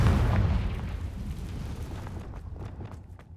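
Confringo fire spell detonating in Hogwarts Legacy, a loud booming blast with a rumbling low-end tail that gradually fades over a few seconds, followed by faint crackling debris.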